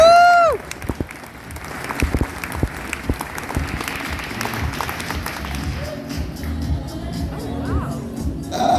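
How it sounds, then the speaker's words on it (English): Loud audience applause with cheering fills a fashion show runway presentation after a model's walk, sustained throughout with a whoop at the start and crowd voices mixed in. "Give her a round of applause."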